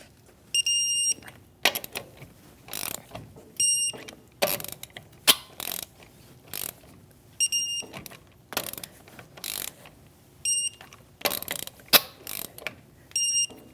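Torque wrench tightening wheel lug nuts on a Chevrolet Malibu, with short bursts of rapid ratcheting clicks repeating in groups, close and fairly quiet, plus a few brief high beeps in between.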